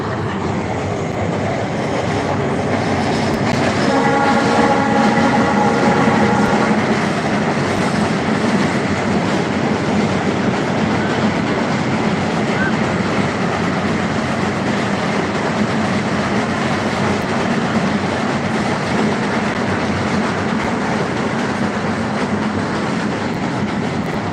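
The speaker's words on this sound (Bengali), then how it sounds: "হাডিল ব্রিজ দিয়ে ট্রেন আসছে" A train crosses the Hardinge Bridge with a loud, continuous roar of wheels and rumbling carriages and a rhythmic metallic clatter that holds steady throughout, slightly swelling early on, with no voices.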